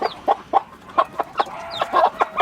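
Hens and chicks in a coop cluck in short, repeated bursts with a few higher peeps, close and clear.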